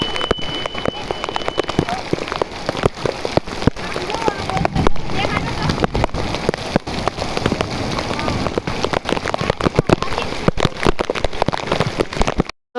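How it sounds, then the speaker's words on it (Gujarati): A heavy downpour pounds a Gujarat village, making a loud, continuous patter of drops on roofs and the ground with sharp splashy bursts throughout, while voices are mostly buried under the rain. "તો મિત્રો વરસાદ આવીને વયો ગયો"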